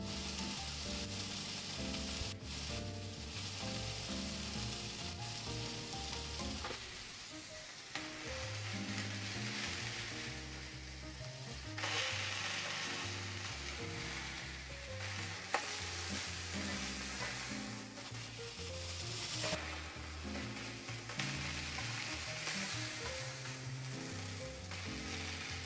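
Italian sausage sizzles and fries in a pan, a steady crackling hiss with occasional stirring, fairly quiet and continuous with no talking.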